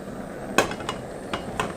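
A metal frying pan clanks down onto a small Soto ST-310 camping stove, a sharp clatter followed by a couple of lighter taps and scrapes.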